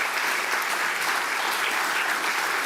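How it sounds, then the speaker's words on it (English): A crowd applauds the governor at a SUNY Stony Brook funding announcement, with dense, loud, even clapping filling the moment and no voices. "Can we have a round of applause again for the governor?"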